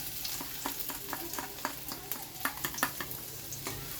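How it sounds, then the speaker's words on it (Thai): Garlic frying in hot oil for stir-fried pickled mustard greens, a close sizzle punctuated by frequent scraping and tapping stir strokes, with no talking. "น้ำมันร้อนแล้วนะคะ ใส่กระเทียมเลยค่ะ"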